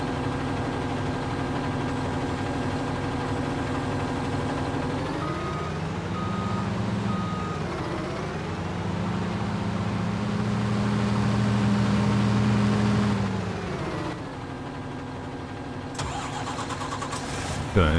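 A truck in the Landwirtschafts-Simulator 19 farming game starts its engine, which settles into a steady mid-pitched hum, while a loud, regular reversing beep sounds repeatedly over it for most of the stretch.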